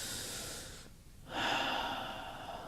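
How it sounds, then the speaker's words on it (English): A person takes a slow deep breath during a calming tapping exercise, a soft close inhale, then a brief pause, then a longer, stronger airy exhale. "Take a breath."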